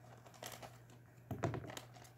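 Scissors snipping and crinkling plastic packaging around an Aurora Flopsies Maine Coon cat plush toy, a few quiet close cuts and rustles, with one louder burst of crunching midway.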